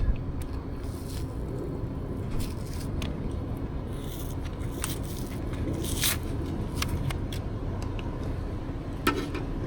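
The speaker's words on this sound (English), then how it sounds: "You can see how easy it peels." Cured Insta-Foam spray foam being peeled and torn away by hand, a close, crackling, scraping tear that runs steadily with brief squishy snaps, with no talking.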